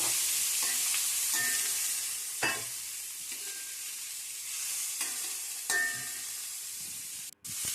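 Diced beetroot and curry leaves sizzle steadily in a hot pan, with a spatula stirring through them in repeated scrapes and clacks over the continuous frying hiss.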